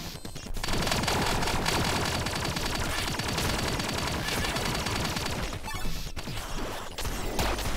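Rapid machine gun fire in the video game Relic Hunters Zero, a loud, dense and continuous burst of shots with crashing impacts, briefly broken near the end before resuming.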